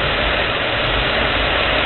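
A 2004 Chevy Impala's 3800 series V6 runs steadily after a cold start, a loud, unbroken engine roar with dense broadband noise and no voices.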